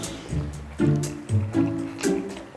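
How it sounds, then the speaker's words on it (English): A birria breakfast burrito is dipped into broth, making soft wet squelches and liquid sloshes in a few close, separate bursts. "We gotta dip it in our broth."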